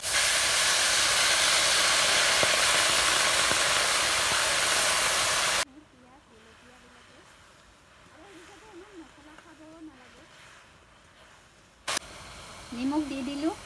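Fried fish sizzling in a pan as sour tenga is added, a loud steady hiss that cuts off abruptly, then quieter cooking sounds with someone speaking over them.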